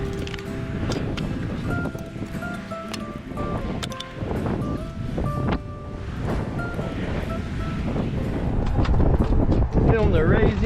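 Strong wind gusts across an outdoor pavilion build site, buffeting the microphone with continuous rumbling roar and rustle, while people talk and occasional knocks sound underneath.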